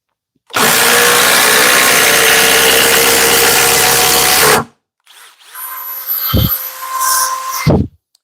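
A Harbor Freight cordless impact driver drives through knotty wood in one loud, continuous run of about four seconds, then a brief pause and quieter intermittent bursts with some thuds as the tool stalls and restarts.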